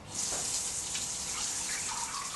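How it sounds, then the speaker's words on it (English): Tap water running steadily at a bathroom sink during conventional teeth brushing, a continuous hissing gush that stays loud and close throughout with no talking. "One will be conventional teeth brushing with the tap running, which wastes a lot of water"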